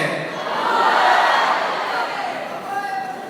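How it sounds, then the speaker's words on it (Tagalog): A crowd at an outdoor political rally in Marinduque cheers and shouts together, a loud sustained roar of many voices that slowly subsides. "Sigawan natin isang mabuhay ang Marinduque."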